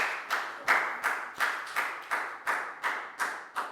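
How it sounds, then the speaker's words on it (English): A class of Year 4 pupils claps together in a maths lesson, roughly ten crisp synchronized claps in an even beat, close and distinct with no one speaking. "A big round of applause for everybody for doing a great job."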